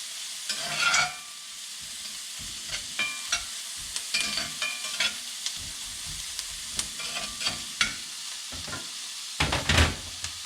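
Onions cook in a pan for chili, giving a soft, steady sizzle punctuated by frequent stirring scrapes and clicks of a utensil, close by with no speech.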